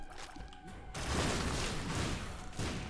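Automatic shooting in The Binding of Isaac: Repentance, a dense continuous burst of rapid game shot and impact effects starting abruptly and lasting a couple of seconds, fairly loud with no talk.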